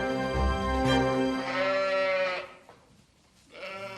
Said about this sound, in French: L'élevage de Flora compte 100 brebis.